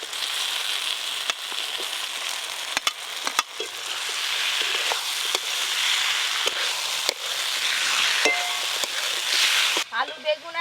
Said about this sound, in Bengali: আলু বেগুন আর মশলা একসঙ্গে ভালো করে মিশিয়ে নিয়েছি